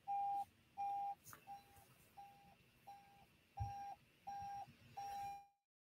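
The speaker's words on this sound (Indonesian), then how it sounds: "Saya akan matikan alarm saya ya" An alarm beeps in a steady repeating pattern of eight short, evenly spaced tones, moderately loud and close, then stops abruptly.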